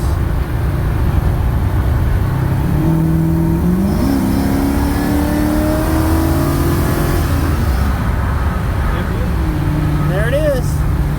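A restomod 1954 GMC truck accelerating onto the freeway, its engine rising through gears with steady road and wind roar, heard from inside the cab.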